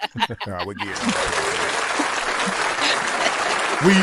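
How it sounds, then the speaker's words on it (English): A crowd applauds at a football talk show after a stunt off the top of a dome, a brief voice opening the clip before steady clapping fills the rest, with a louder shout near the end. "Give him a round of applause."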